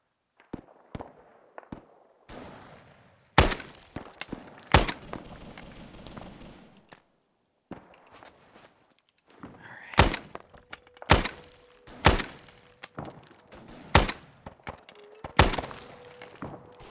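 Bullets fire and smack into surfaces during a 1960s Argentina campaign war game: sharp irregular cracks and thuds, some isolated and some in quick clusters, spread across near-silence with faint background tones.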